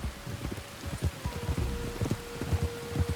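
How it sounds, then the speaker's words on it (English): Rain falls steadily in the Red Dead Redemption 2 game world, a constant hiss of drops with irregular soft thumps and patters, fairly close, with no talking. "You were right about the damn rain."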